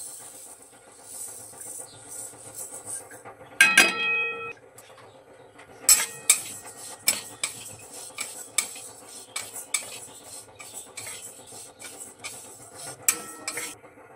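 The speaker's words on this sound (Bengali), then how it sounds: "মুগের ডালটা এবার শুকনো খোলায় ভেজে নেব" Moong dal dry roasting in a hot pan, with sharp metallic clatters and scraping of a utensil against the pan in irregular bursts over a quiet background hum.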